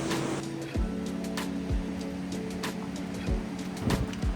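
River water rushes along a hiking trail in a steady, broad wash that fills the whole clip, with a few soft knocks and thuds breaking through, and no talking.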